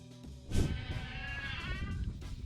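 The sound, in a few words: goats bleating in a Bedouin herder's pen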